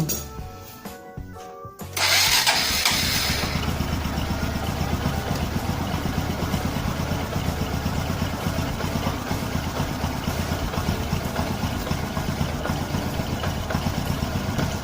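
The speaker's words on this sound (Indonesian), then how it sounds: "sekarang coba kita hidupkan" A Honda Megapro, Tiger or Karisma motorcycle engine, its cam chain tensioner just repaired, cranks over after a short quiet pause and catches. It settles into a loud, steady, slightly rough idle that runs on alone with a close, even chatter.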